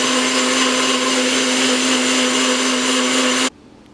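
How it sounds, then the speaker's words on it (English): A blender whirs steadily at full power through turmeric latte milk, a loud constant motor drone that cuts off abruptly near the end, leaving quiet room tone. "the blender to blend it nicely before we heat it up on the stove"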